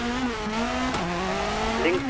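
A damaged rally car's engine in the video game WRC 4 drones steadily at a fairly constant pitch, with a brief dip partway through and a slight rise near the end.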